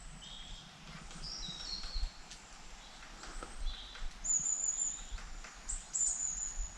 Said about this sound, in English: Just the sound of birds in the trees.